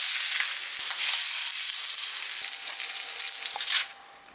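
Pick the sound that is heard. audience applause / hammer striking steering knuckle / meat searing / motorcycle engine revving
meat searing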